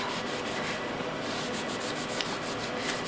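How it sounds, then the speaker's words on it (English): Painted wooden tray pieces for a holiday decor set are sanded by hand, producing a steady close scratchy rubbing with short repeated strokes and no talk. "We'll do some sanding."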